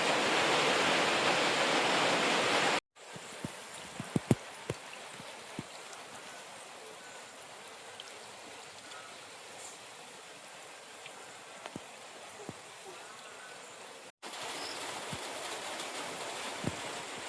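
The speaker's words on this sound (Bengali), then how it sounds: "গরম বলতে বলতে এর মধ্যে বৃষ্টি ফুটিয়েছে" Rain falls in the Sundarban area as a loud, steady broadband hiss in two bursts at the start and end, with a much quieter stretch between them marked by a few faint taps.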